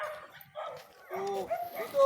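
A dog gives a few short, yipping barks at moderate distance, mixed with people chatting nearby.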